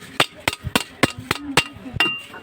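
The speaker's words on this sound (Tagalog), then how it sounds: "Gamit tayo ng martilyo, no? Hindi plies." A hammer taps a new bushing into place on a washing machine, giving about seven sharp metallic knocks at an even, fairly quick rhythm, close and loud, with light handling noise between blows.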